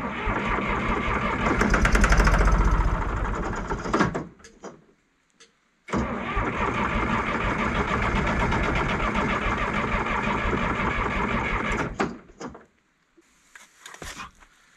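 A John Deere 350B crawler engine cranks hard and tries to catch, running rough for several seconds, cutting out, then cranking again for a long stretch before stopping, loud and close with no talk.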